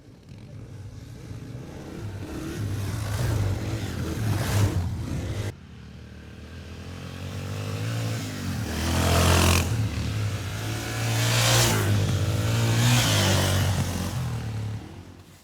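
Yamaha TTR 230 dirt bikes ride and rev, engine noise rising and falling through repeated throttle pulls at moderate distance, with some clatter from the terrain and no talk.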